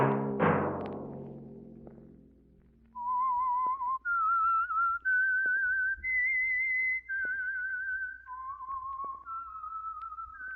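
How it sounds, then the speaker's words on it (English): After a struck chord fades, someone whistles a slow, clear melodic tune of sustained notes, alone and close. "Let that whistle be your signal for the Whistler each Sunday night"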